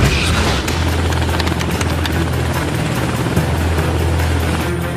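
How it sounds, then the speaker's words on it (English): An H-60 Coast Guard helicopter launching on a rescue in Alaska, its rotor and engine roar loud and continuous with a deep throbbing low end and no voices. "Our District 17 Command Center elected to launch an H-60 helicopter"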